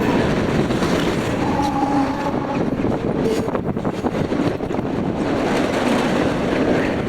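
A CSX manifest freight train rolls past steadily and close, with dense rumbling wheel and rail noise and wind buffeting the microphone throughout, no voices.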